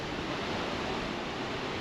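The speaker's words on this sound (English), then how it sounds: "just the waves coming through create the motion" Broad, steady wash of ocean waves rolling past a cruise ship on a sunny sea day, a constant surf-like hiss with no breaks, heard alone with no voices.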